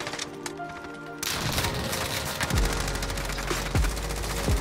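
Rapid bursts of automatic gunfire in a Modern Warfare match, with sharp repeated shots over a dense, noisy game mix and steady background action.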